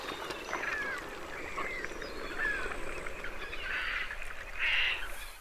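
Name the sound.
gulls, cormorants, pelicans, herons and egrets on lake Kerkini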